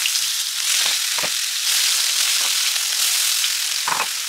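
Masala frying in hot oil for masala prawns, a bright, constant sizzle close up with occasional soft stirring knocks, no one speaking.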